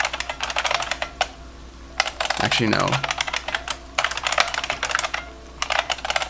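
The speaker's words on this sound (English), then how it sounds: "I'll keep typing." Rapid typing on a computer keyboard in bursts, close and fairly loud, pausing briefly while a person says a few words in the middle.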